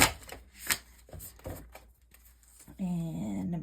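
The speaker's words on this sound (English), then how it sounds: "because I always shuffle in 3s, because a triangle is the strongest structure in nature" Tarot cards being bridge-shuffled off to the side, giving a few quick papery riffles and soft taps near the mic, followed by a talking voice near the end.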